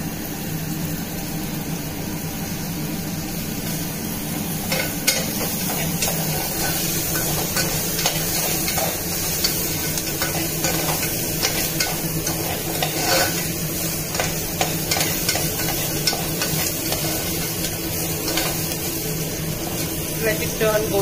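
Garlic frying in a pan with steady sizzling and repeated stirring scrapes, continuous and close, while a voice talks over it.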